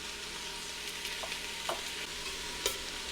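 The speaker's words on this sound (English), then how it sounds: "I'm just going to slowly saute these vegetables over a medium heat." Minced celery, chunky carrots and onions sauté gently over medium heat in a pan, a quiet steady sizzle broken by a few soft scrapes and stirs.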